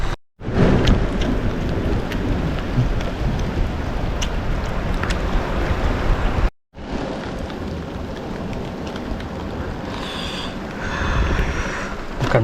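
Heavy rain with rumbling thunder, a loud continuous downpour with deep rolling booms, briefly cut out mid-way, then resuming with a swelling rumble near the end; no talk.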